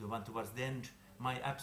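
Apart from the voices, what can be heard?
No everyday noise stands out behind the speech.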